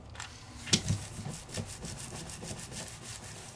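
Paper is rubbed firmly by hand to press sticky adhesive dots down during card making, a soft, close, continuous scratchy rubbing in quick repeated strokes with a couple of small bumps.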